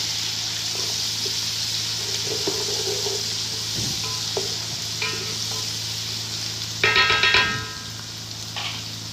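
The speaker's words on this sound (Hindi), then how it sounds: "ये देखिए, हमारा लहसुन अदरक भी हो गया फ्राई।" Garlic and ginger fry in a pan for a dhaba-style chana dal with spinach, giving a steady low sizzle with occasional stirring scrapes and a brief louder burst of stirring near the end, with no voices.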